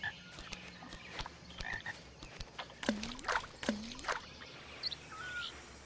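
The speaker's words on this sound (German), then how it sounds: "Und da sind Kröten, die werden wir mal verscheuchen." Toads by the water in the grounds of Hogwarts in the Harry Potter and the Order of the Phoenix video game give several faint, scattered croaks over a quiet, rustling ambient background.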